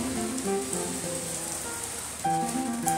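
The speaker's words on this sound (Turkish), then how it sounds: "Yağmur yaklaşık bir saat yağıyor, ara ara duruyor, tekrar yağıyor." Summer rain falling in the forest at Iguaçu Falls, a steady close patter on surfaces with faint tonal sounds threaded through, no talk.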